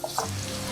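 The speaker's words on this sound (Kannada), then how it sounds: "ಉಪ್ಪು ಹಾಕೊಂಡಿದ ನಂತರ ಒಂದ್ಸಲ ಎಲ್ಲ ಚೆನ್ನಾಗಿ ಮಿಕ್ಸ್ ಮಾಡ್ಕೊಳ್ತೀನಿ" Onions sizzle in a tempering for tamarind chitranna as a spoon stirs the pan, a soft steady frying hiss with light scraping knocks near the start, close and without speech.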